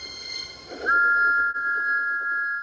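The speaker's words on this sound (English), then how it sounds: "Thomas's whistle soon woke them up." A loud, steady steam-engine whistle from Thomas the Tank Engine sounds from about the first second and holds its pitch to the end, after a brief softer lead-in.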